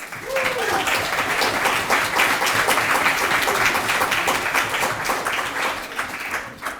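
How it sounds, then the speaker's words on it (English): Audience at an event-planning talk breaks into steady, fairly loud applause that holds throughout, with a brief voice cutting in near the start. "I'll give her a big round of applause."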